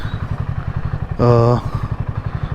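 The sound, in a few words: motorbike being parked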